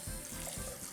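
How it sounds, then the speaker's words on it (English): Cold tap water runs into a sink as boiled eggs are put in to cool, a steady hissing splash heard close and alone for about a second. "So I'm immediately going to throw this in cold water."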